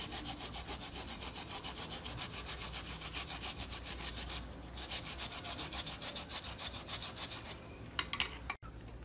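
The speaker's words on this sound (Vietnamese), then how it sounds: "các bạn cũng sẽ bào nhỏ gừng cùng với táo" Fresh ginger and apple are grated by hand for a home drink: continuous close, rhythmic rasping strokes in quick succession with no talking, briefly pausing near the end before a sharp knock.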